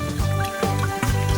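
Water poured into a car screen wash mixture while topping it up in a garage, a short liquid splash and trickle heard beneath background music and a voice.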